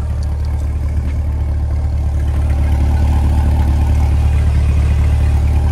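A 2021 Chevrolet Corvette C8 sports car engine idles with a loud, steady, deep rumble that holds level the whole time.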